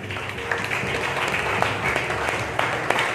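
Congregation clapping and applauding during a Sunday church service, a dense, sustained wash of hands at fairly close range with faint murmuring voices underneath.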